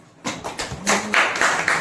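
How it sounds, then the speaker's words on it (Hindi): A church congregation claps gently, a soft, slightly uneven patter of hands building over a couple of seconds, with a faint voice underneath. "तो एक धीरे से ताली बजा सकते"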